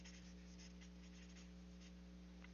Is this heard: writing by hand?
yes